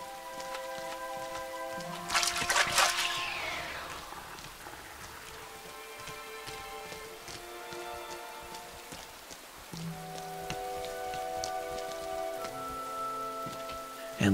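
Steady rain falls in the video game Rain, a continuous wash of drops on surfaces with a louder splashy burst near the start, then softer pattering under faint tonal game music.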